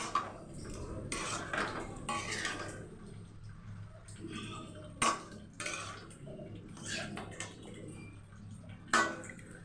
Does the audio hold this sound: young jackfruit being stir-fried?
yes